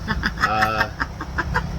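A rooster gives a short, close crowing call amid rapid, rhythmic clucking from farm fowl, loud and near throughout.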